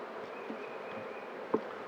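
Honey bees buzz in a steady, even drone during a beehive inspection, close and continuous, with a brief soft knock near the end.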